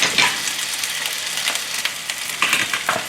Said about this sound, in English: Once you add the raw chicken in, let them sear for a few seconds before you give them a stir